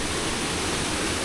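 Water pours steadily at a free drinking-water source, a dense, even rushing hiss with no breaks, close by and fairly loud.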